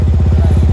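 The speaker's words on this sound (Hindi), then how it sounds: "बाइक तो स्टार्ट है बट देखो बाइक स्टार्ट है" A crashed Yamaha R15M motorcycle with a burst fuel tank and smashed meter idles close by, its engine running in a loud, fast, even putter for under a second.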